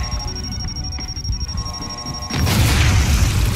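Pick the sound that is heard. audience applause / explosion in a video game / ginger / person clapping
explosion in a video game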